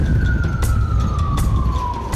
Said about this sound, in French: Toute sirène hurlante, l'ambulance traverse les rues de la ville.